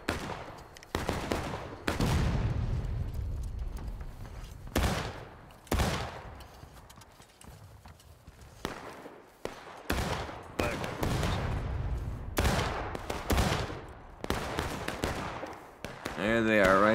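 Musket gunfire in the War of Rights game: repeated sharp reports, some near and loud and others more distant, scattered irregularly across the stretch with occasional talk over it.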